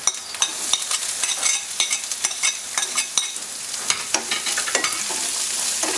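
Onions and mixed vegetables frying in a pan for oats upma, a steady close sizzle with frequent scraping stir strokes, no talking.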